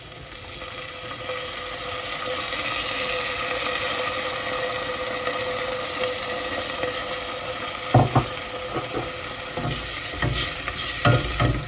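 Green beans and tomato puree fry in butter with a steady close sizzle that runs throughout, and sharp scraping stir strokes cut in near the end.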